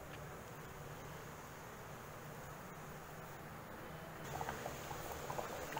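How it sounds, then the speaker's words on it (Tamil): Faint, steady bubbling and crackling of a banana stem and buttermilk curry at a low simmer in a pot, with a few sharper pops toward the end. "இப்போ இது நல்லா கொதிச்சாச்சு"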